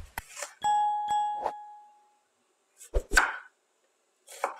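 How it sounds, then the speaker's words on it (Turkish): A knife chops peeled dry onions into large quarters on a board: several sharp, close chops, a few ringing briefly with a metallic tone, separated by short pauses. "Kuru soğanlarımı 4'e bölüyorum. İri iri doğruyorum."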